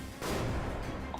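A grenade goes off in Metro Last Light Redux, a single loud, dense blast that fills the short moment and stays heavy to the end.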